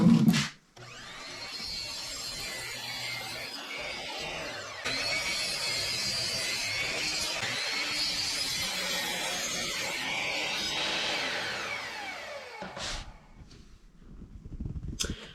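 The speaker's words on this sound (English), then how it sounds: "I'm going to bring them to the miter saw, get them cut." Power miter saw cutting through wood salvaged from a discarded table, a loud, sustained whining cut running most of the time, with brief spin-up and wind-down bursts at the start and end; no talking.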